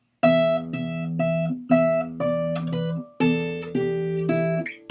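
Electric guitar plays a blues-style second ending, ringing sustained chords and bent notes in a few separate phrases, loud and close with no talking.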